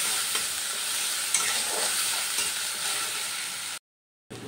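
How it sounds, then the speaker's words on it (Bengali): Spice paste sautés in a pan with a steady, fairly loud sizzling hiss and intermittent stirring scrapes, then cuts to brief silence before the sizzle resumes. "এবার একটু ভালো করে কষিয়ে নেব।"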